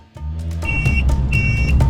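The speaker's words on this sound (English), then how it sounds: "the bell I have in my bike that sounds like a motorbike actually works against dogs" An electronic bicycle horn gives a buzzing, motorbike-like drone with a steady whine, sounding twice in short bursts over a low rumbling background, used to ward off dogs on a bikepacking route.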